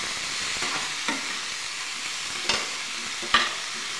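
Potato and fenugreek leaves stir-fried in a pan for an aloo methi bhaji, with a steady close sizzle and a few sharp spatula scrapes against the pan.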